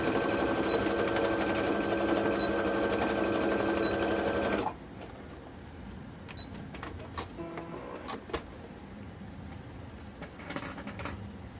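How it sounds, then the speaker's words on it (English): Sewing machine stitching a cotton waistband, a fast loud mechanical whir for several seconds that stops abruptly, followed by scattered clicks and fabric handling. "I'm going to run another stitch."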